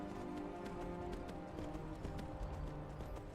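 Horse hooves galloping in the video game Skyrim, a fast steady clip-clop rhythm close up and continuous, with a faint game ambience underneath and no talk.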